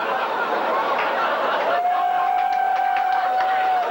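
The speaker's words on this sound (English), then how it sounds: "Some of the farm boys are cheering." A comedy show audience with farm boys cheering, producing a broad wash of crowd noise, chatter and whoops from a room full of people, steady and fairly loud, with a thin whistle-like tone rising partway through.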